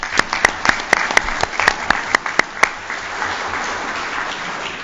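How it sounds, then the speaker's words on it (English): A few people clapping at a city Board of Mayor and Aldermen meeting, a dozen or so sharp distinct claps in a loose rhythm over about two and a half seconds, then fading into quiet room tone. "It's definitely applause worthy"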